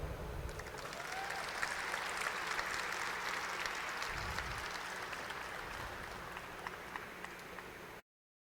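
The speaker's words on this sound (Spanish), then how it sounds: "Fuerte el aplauso para el licenciado Sergio Dabdub" An audience applauds at a national potato congress, a dense sustained clapping that holds evenly for several seconds before stopping abruptly.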